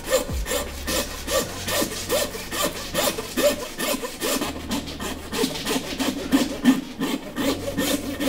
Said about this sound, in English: See the little trick I'm doing with the saw blade?